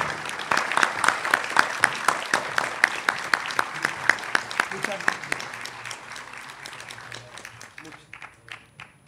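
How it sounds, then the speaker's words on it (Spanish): A conference audience applauds the first speaker with dense, steady clapping that swells, then thins and fades out over the last few seconds. "Démosle, por favor, un cálido y fuerte aplauso a nuestro primer expositor"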